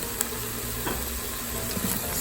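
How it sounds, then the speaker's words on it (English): Vegetables sautéing in an Instant Pot for beef paprikash, a continuous soft sizzle with faint scraping stirring sounds throughout. "So now I've added my vegetables, and we're just going to cook those down for a little bit."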